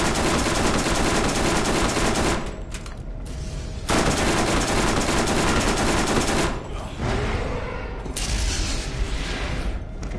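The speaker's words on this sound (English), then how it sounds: "I'm gonna try the SMG out and see if that works better." Rapid SMG fire in Borderlands rattles in three long, loud bursts separated by short gaps, mixed with mechanical clatter from the game and no speech.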